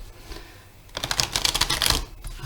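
Oracle cards shuffled by hand, close and fairly loud: a dense burst of riffling, flicking card noise lasting about a second, after a quieter stretch of handling.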